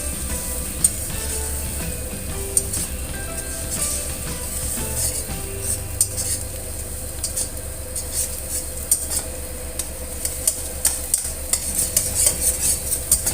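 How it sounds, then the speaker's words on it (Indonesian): Eggs are stirred in a pan for butter fried rice, a spatula scraping and clinking against metal in irregular taps over a soft sizzle, close and fairly quiet, with no talk. "Kemudian pelan-pelan seperti ini ya, diaduk-aduk telurnya."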